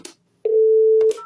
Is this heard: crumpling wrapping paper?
no